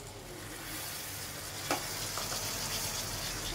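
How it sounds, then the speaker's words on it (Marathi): Boiled cashews drop into a bubbling mix of jaggery and coconut, setting off a steady, quiet sizzle with one soft splash partway through. "आता मी त्याच्यात काजू टाकते"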